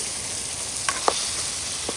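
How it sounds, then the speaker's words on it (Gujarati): Lobster stirred through a pan of hot, sizzling gravy: a steady broadband sizzle with a few short scraping stir strokes near the end, close and alone. "ટીટમ નાખી દીધા છે ને હવે આપણે આવી રીતના હલાવવાનું છે."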